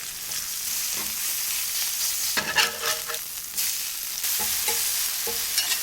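Spicy Italian sausage frying in a pan for a Roman sandwich, with a steady crackling sizzle under bursts of stirring and scraping. The sound is close and continuous with no voices.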